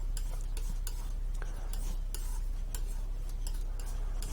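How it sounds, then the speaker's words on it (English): A palette knife scrapes and mixes acrylic paint on a palette, a continuous grainy rasp marked by quick, regular ticking strokes, close and fairly loud, with no talking. "You need to scrape up the paint and use a palette knife on the side like this."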